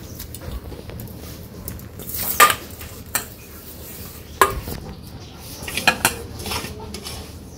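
Small kachki fish being mixed by hand with spices and vegetables in a metal bowl, soft squelching under sharp intermittent clinks of utensils against the dish, no speech.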